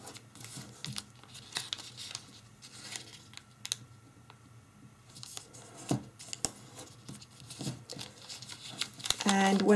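Origami paper is folded into a traditional Easter basket, giving soft crinkles, creases and rustling taps close by under a person talking.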